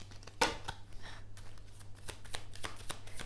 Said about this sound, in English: let's pull you out some love cards.